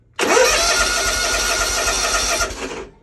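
Lawn mower engine cranking over and over with the choke pulled, a steady loud churning rhythm for about two and a half seconds that never catches, then stops.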